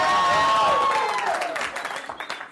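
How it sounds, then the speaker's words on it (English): An audience at a live comedy show claps and cheers, a broad wash of crowd noise that starts full and loud, then thins and fades over about two and a half seconds. "By a round of applause and your level of excitement, tell those who haven't seen me before how much fun they're going to have tonight."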